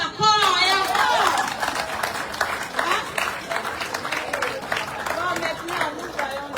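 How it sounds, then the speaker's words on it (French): An audience at a foundation's first-anniversary celebration claps steadily, a thick continuous wash of many hands close by, with cheering voices and chatter mixed through it. "Mais on applaudit encore et encore."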